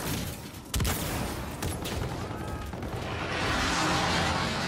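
Gun run airstrike in the Call of Duty Infinite Warfare video game, with a sharp burst of heavy cannon fire followed by scattered impacts and crashes building into a loud sustained roar of rushing noise.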